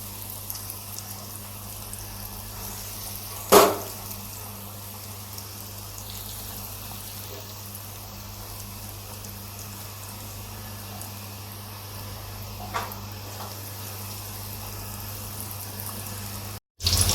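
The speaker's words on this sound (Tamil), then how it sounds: "எல்லாம் கோல்டன் ப்ரௌனாக ஃப்ரை பண்ணி நம்ம எடுத்துக்கலாம்" Prawn nuggets frying in hot oil over a medium flame until golden brown, a steady soft crackle and hiss of bubbling oil throughout, with one faint clink partway through.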